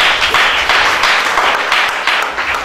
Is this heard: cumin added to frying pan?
no